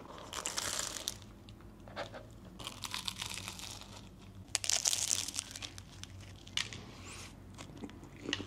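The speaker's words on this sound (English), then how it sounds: "Now I take a good bite." Close bites into a salty, creamy, fruity food, with crinkling and crunchy chewing sounds in several bursts, near and fairly quiet, with no talking.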